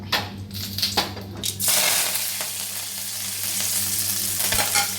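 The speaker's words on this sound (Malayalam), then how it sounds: "ഒരു ചെറിയ കുഞ്ഞുള്ളി കറിവേപ്പില രണ്ട് വറ്റൽമുളക് ചെറുതെ കടുക് താളിച്ച് കൊട്ടാറാണ്" Mustard seeds, shallots, curry leaves and dried chillies temper in hot oil with a loud, continuous crackling sizzle, after a few brief scrapes and stirs in the pan at the start.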